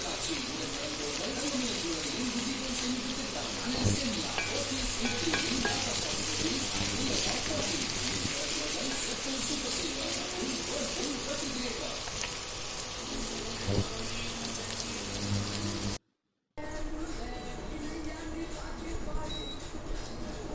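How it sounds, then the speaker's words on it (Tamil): Small shallots sautéing in a pan for gongura chutney, a steady close sizzle and frying hiss running throughout, with occasional stirring clicks, under someone speaking. "இப்போ இந்த சின்ன வெங்காயத்தையும் இதுக்குள்ளே ஆட் பண்ணி இதை நல்லா வதக்கி விட்டுக்கோங்க"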